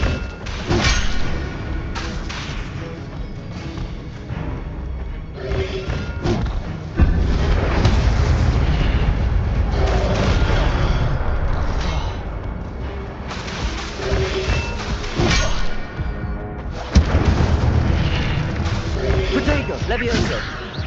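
Incendio fire spells in Hogwarts Legacy blast repeatedly with thuds, crashes and crackling bursts over a dense, loud game soundscape, while a voice speaks throughout.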